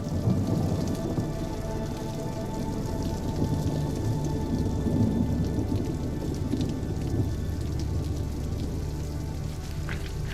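Steady, heavy rain pours down continuously, a dense hiss of drops on surfaces, with a low rumble underneath.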